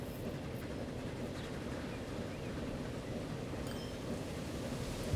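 Steady low rumble of a train running in Transport Fever, a continuous dense mechanical drone held at an even level throughout with no voices.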